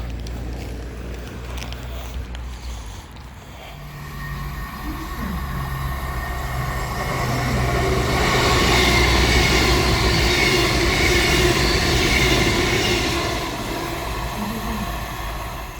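A West Midlands Railway passenger train rumbles steadily past, growing louder midway with a rushing, rattling roar and faint wheel squeal, then easing slightly.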